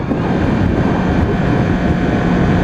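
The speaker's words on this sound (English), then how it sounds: "Got an airplane coming in for landing over there" An airplane coming in to land near Georgetown airport, heard as a steady, broad low roar blended with wind noise, continuous and fairly loud throughout.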